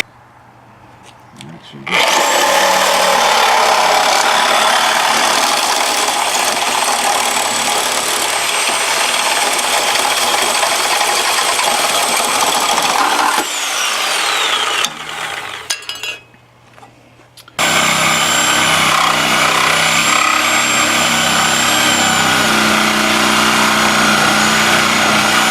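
Sawzall reciprocating saw cutting through a Ford Ranger body panel, a loud harsh buzzing rasp that runs in long bursts with a brief pause, with voices talking at times.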